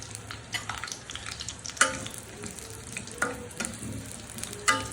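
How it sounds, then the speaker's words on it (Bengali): Potato chunks fry in ghee in a pan with a continuous soft sizzle, broken by several sharp clinks and scrapes of stirring against the pan. "আলুটা একটু ভাজবো।"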